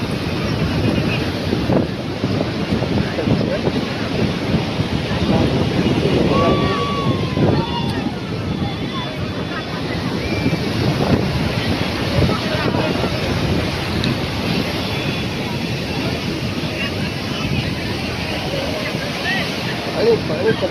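Wind and sea waves at Puri beach, with loud gusts buffeting the microphone over continuous surf while people talk throughout.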